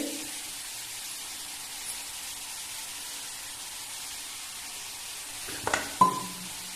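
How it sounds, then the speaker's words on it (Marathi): Cowpea leaves, onion and green chilli cooking on a hot griddle give a steady broadband sizzle throughout, with a couple of sharper clinks or scrapes near the end. "पहिल्यांदा निम्मी भाजी मी तव्यावर टाकून घेते आणि त्यानंतर हा कांदा आणि हिरवी मिरची त्यावर टाकते।"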